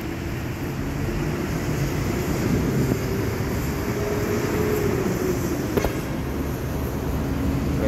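An airplane flies over Makati City during a typhoon with monsoon rain, a continuous low roar swelling slightly and then fading, with no voices.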